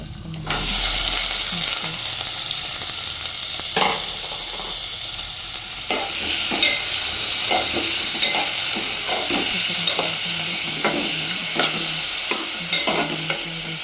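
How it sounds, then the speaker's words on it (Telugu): Tomatoes and other chopped ingredients for an Andhra-style chutney fry in a pan, a constant close sizzle broken by repeated scraping stirs, with no voices. "టమాటో కూడా ఫ్రై చేస్తున్నాను."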